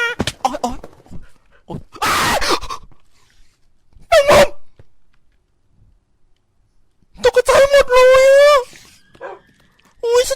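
A puppy gives high whines and yelps in short bursts, with a longer wavering whimper near the end, heard close and loud between a woman's speech.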